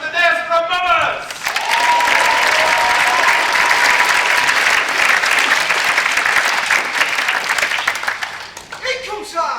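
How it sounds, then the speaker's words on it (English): Loud, sustained applause from a large audience at a folk dance event in Nottingham, introducing a mummers' play, a dense wash of clapping that swells quickly and carries on, with brief voices at the start and end. "Please would you make some noise for the Knaresborough Mummers"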